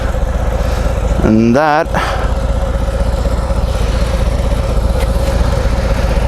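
A Harley-Davidson FXDR 114 with a Screaming Eagle exhaust idles nearby in a steady, loping rumble, broken briefly by a short sweeping tonal sound and a couple of spoken words.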